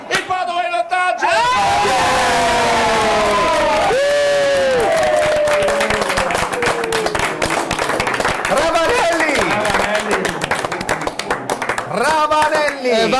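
Football crowd roaring and cheering a Padova goal in a stadium, with loud sustained shouts, whoops and clapping from the fans while a commentator speaks excitedly over the din.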